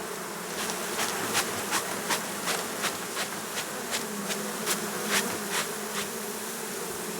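Honeybees hum in a dense, continuous drone around an open hive being examined by a beekeeper, with steady rhythmic clicks or taps recurring roughly every half second beneath the close, sustained buzz.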